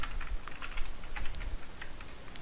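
Code is typed on a computer keyboard in a steady run of light clicking keystrokes over a constant background hiss, with no speech.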